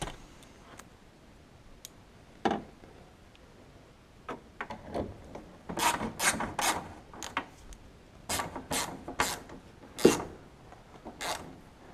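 Bolts are fastened while a mirror goes back onto a 2004 Ford F250, heard as scattered clicks, ratcheting ticks and scraping mechanical knocks at close range, sparse at first and then busier.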